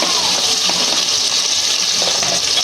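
Cut onions hit hot oil in a pan, sizzling in a loud, steady hiss that fills the whole moment.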